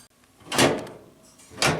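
LG Tromm clothes dryer door being fastened to the unit during a repair: two separate nearby knocks and scrapes of the door against the cabinet, moderate in loudness, with quiet gaps between.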